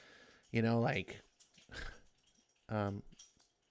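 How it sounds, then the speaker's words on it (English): A dog barks and growls excitedly in the background, a few loud, harsh outbursts spread across the moment, with a voice talking over it. "Just my dog in the background deciding to go nuts."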